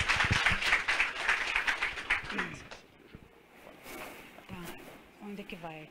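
An audience breaks into applause welcoming a woman from the municipal health surveillance office at a talk, with many claps for a couple of seconds before fading, after which she speaks.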